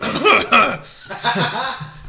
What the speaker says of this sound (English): So funny if she's just got a bad cough.